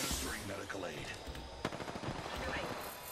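Flatline rifle bursts from a ranked shooter match crack out in quick automatic strings, moderately loud, with a sharp louder shot midway and a voice talking over the shooting.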